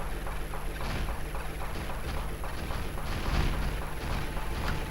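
Weapons fire rapidly in the space shooter game Space Strike, a dense, continuous clatter of shots and booms that runs the whole time at steady loudness with no talk.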